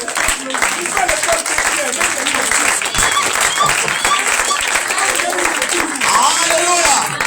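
A church congregation at a Passover gathering claps and cheers to acclaim Jesus, steady applause and crowd noise filling the space while a voice speaks over it.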